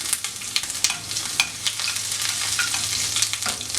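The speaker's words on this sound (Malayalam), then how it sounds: "അതിലേക്ക് ഒരു സ്പൂൺ ഇഞ്ചി ചേർത്ത് കൊടുക്കാം" Ginger and mustard seeds fry in hot oil for a peechinga pachadi, giving a steady close sizzle dotted with sharp popping crackles throughout, with no talking.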